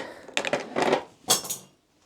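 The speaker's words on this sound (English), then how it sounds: "Throw my scissors on the floor, whoops." A couple of sharp metallic clatters, like scissors hitting a hard floor and bouncing, with brief quiet between impacts.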